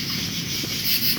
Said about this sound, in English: These crickets are gonna make me crazy.